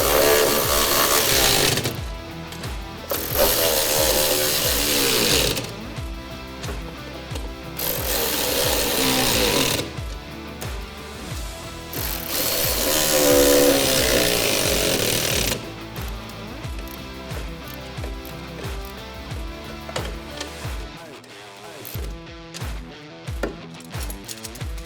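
Bolts on ATV straight-blade wing extensions being tightened with a 9/16-inch socket, loud bursts of rapid power-tool hammering alternating with pauses, then lighter clicking and rattling toward the end.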